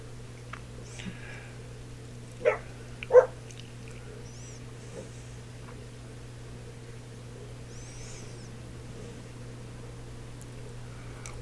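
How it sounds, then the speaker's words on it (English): Dogs bark outside, two sharp barks near the start at moderate distance over a steady low electrical hum, then quieter whimpers with no talking. "My dog's barking,"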